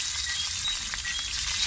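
Fish cooking over an outdoor wood fire while camping, a steady close sizzle and crackle running without pause, alone with no talking.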